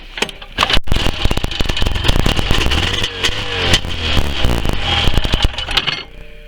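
A 1990 Arctic Cat Jag 440 snowmobile engine, primed with starting fluid and with slush in the carburetor, catches and runs roughly nearby, clattering and revving unevenly for several seconds before cutting out.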